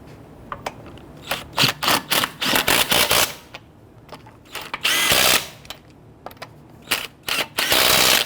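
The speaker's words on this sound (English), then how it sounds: "When tightening down the lug nuts, you want to do it in a crisscross pattern" Lug nuts are snugged onto a Nissan Quest wheel with a power tool, giving short, sharp mechanical bursts of whirring and rattling in irregular spurts, close up and without talk.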